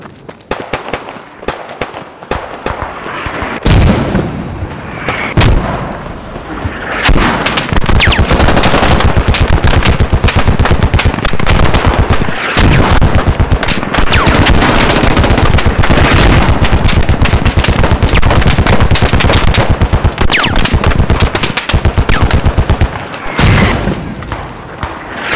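Sustained machine gun fire in the military shooter game Squad, in a woodland battle: loud, dense automatic bursts with booming impacts that run almost without a break, briefly thinning out near the start and the end.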